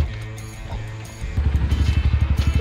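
A Honda CRF150 trail motorcycle engine is started on a trail; after a short lull the motor catches and settles into a rapid, throbbing idle pulse, close and fairly loud.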